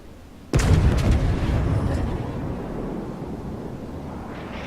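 Naval artillery fire in the World of Warships video game: one sudden, heavy boom of a gun salvo, followed by a long, loud rolling rumble that slowly fades.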